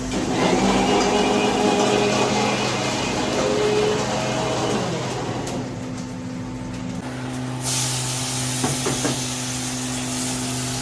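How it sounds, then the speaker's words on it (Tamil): An electric mixer grinder blends tomatoes in a home kitchen at a Sri Lankan refugee camp, giving a loud, continuous whirring roar that shifts in tone partway through, with no talking. "தக்காளியை மிக்ஸில் போட்டு ஒரு அடி அடிச்சுட்டு"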